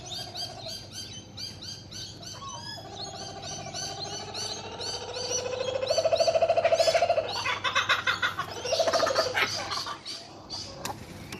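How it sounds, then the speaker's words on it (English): Birds calling back and forth outdoors, with repeated cooing and hooting notes and chirps answering one another, fairly faint against a steady background hum. "Don't often get that on camera where they call each other."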